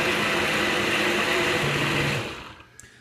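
A blender purees broccoli soup with a loud, steady whirring drone that runs for about two seconds, then spins down and fades to near quiet, with a faint click at the end.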